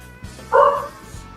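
Dog barking in the background, a short burst of woofs under a quiet room hum, with low rumbles around it.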